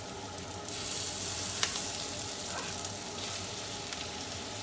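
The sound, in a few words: mushrooms sautéing in butter with shallots in a pan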